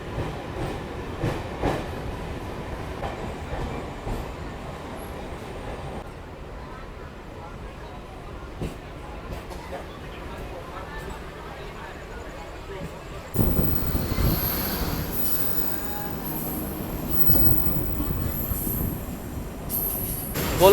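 A local train pulls out of Hijli station on the Kolkata to Puri line, its wheels squealing on the rails and rolling with a clattering rumble that grows louder and rougher near the end, while people talk.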